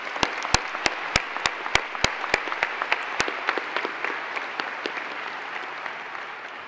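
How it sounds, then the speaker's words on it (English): Graduation audience at a high school ceremony breaks into applause, opening with a handful of loud, sharp individual claps over a dense, steady wash of clapping that gradually thins and softens over several seconds. "Please join me in a round of applause for the administration team."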